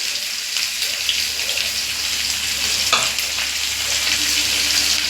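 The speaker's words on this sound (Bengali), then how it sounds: "আমরা পরে তেল দিয়ে দিয়েছি, পেঁয়াজ কুচানোটা একটু বেশি করেই দেবো।" Chopped onions fry in oil, producing a loud, continuous hissing sizzle close by with a few faint stirring scrapes and no voices.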